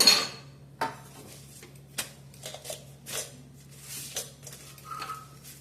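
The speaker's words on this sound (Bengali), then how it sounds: "বানিয়ে চলে এসেছি, পরিবেশন করে দেবো।" Dishes and cutlery clink at a home dinner table as flatbread parathas and spiced potato curry are served for two, with scattered sharp taps and scrapes over a steady low hum, no talking.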